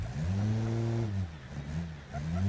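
A BeamNG.drive video-game car engine with loose or broken mounts shakes as it revs in bursts, its low droning tone rising and falling unevenly, loud and close throughout.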